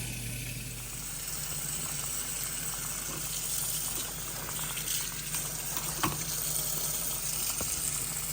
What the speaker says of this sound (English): I'm just putting them in this salt water.